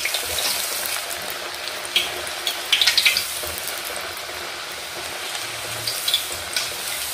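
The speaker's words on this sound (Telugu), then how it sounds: "గ్యాస్ మీడియం ఫ్లేమ్లో పెట్టి వేయించుకుందాం" Bottle gourd and rice flour vadas frying in oil on a medium flame, a continuous bubbling sizzle with occasional louder crackling bursts, close and without talk.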